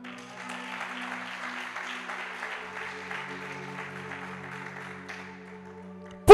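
A church congregation applauding together, steady sustained clapping for several seconds that fades toward the end, with a low organ-like tone underneath.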